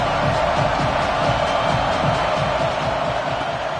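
A stadium crowd cheers in the Madden football video game on PS5, a dense, steady roar that fills the whole stretch without breaks.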